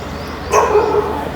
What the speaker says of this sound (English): besides the dog barking, it was actually really peaceful